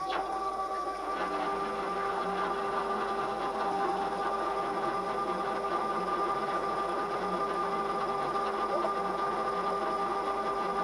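A fuel transfer pump runs continuously at high speed, producing a steady, even mechanical whir and buzzing hum that holds unchanged from start to finish, close and alone.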